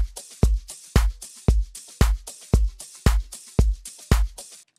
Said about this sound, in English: This is the rim shot. And so I had to make sure that it goes with the clap.